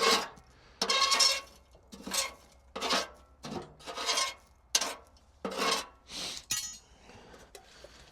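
Ash scraped and knocked out of a pellet stove grate with a metal tent stake, a series of harsh raspy scrapes and clinks in bursts of about a second, close and fairly loud, with no talk.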